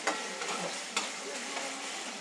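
Ingredients for masala pulao fry in a hot pan with a steady, dense sizzle, broken by a couple of sharp stirring clicks, close and alone.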